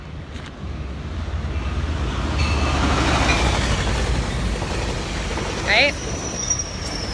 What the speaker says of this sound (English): Just like a freight train, right through my mindfulness video.